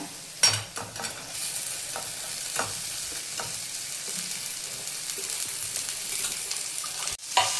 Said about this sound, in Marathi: आपण त्याच्यामध्ये आता भेंडी टाकून घेऊया